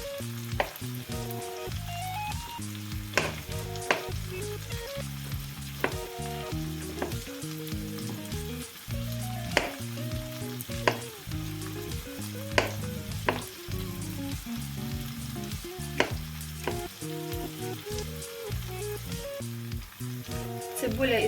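Peppers for shakshuka sizzle steadily as they stew in a hot pan, a continuous crackling hiss with occasional sharper pops, close by, while soft background music plays underneath.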